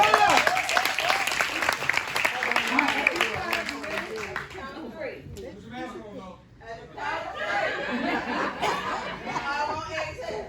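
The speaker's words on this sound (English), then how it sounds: "Clap it up, clap it up, clap it" An audience at a luncheon event claps along with scattered laughter and chatter, dense and fairly loud at first, thinning briefly before picking up again, with voices mixed throughout.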